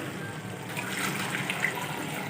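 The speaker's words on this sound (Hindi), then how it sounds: "अब हम पानी ऐड करेंगे 1 लीटर" Water is poured into a karahi of beef cooking with mashed tomatoes, making a steady close splashing, gushing wash that lasts the whole moment without pause.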